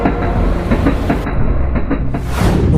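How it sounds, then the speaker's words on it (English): A train rolls along with a loud, continuous rumble and a rhythmic clatter of wheels, plus a thin high-pitched squeal from the wheels partway through, with no speech. "Suddenly, gears shift, wheels scream, and the train begins to move."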